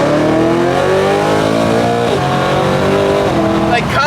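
A BMW E9x M3 engine revs while driving, its smooth harmonic tone climbing and dropping through several swells. Someone talks over it throughout, with wind noise in the cabin.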